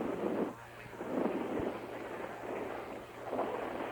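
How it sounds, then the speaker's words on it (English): Heavy rain pours over an outdoor 1981 nine-man high school football game between Argyle and Stephen, a steady loud wash of broadband noise with a low hum underneath and a couple of dull thumps that may be thunder. "Oh, here comes the rain."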